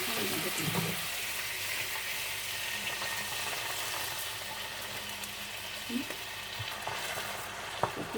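Rice with coconut milk being stir-fried, a steady bubbling sizzle throughout with occasional stirring scrapes and a few sharp clicks, plus a low background hum.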